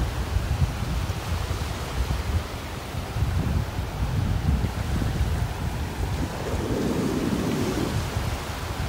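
Strong south wind buffets the microphone on a Gulf beach in North Naples, Florida, a steady low roaring rush with surf behind it, continuous and loud throughout with no talking.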